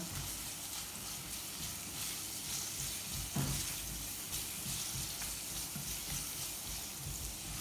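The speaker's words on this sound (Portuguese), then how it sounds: "aqui ela já tá fritando" Faint, steady sizzling of onion frying in a pan over high heat, with a soft scrape or clink partway through; no voices.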